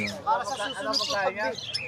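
Yellow-face pastel lovebirds squawk and chirp at a busy pet market, with harsh repeated calls close by over a background of crowd chatter.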